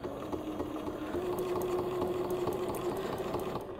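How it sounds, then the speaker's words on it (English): A sewing machine stitching straight ruler lines on a quilt block produces a continuous, even mechanical hum with faint rhythmic ticking, close and steady throughout. "I'm going to stitch back up the outside of my block."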